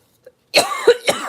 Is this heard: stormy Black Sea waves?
no